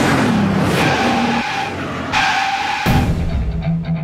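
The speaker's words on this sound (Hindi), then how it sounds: "ऐसा ही कुछ हुआ वॉक्सवैगन पोलो के स्टंट पर।" Tires of a Volkswagen Polo skidding and squealing during a car stunt, loud close screeches in several abrupt bursts over a revving engine.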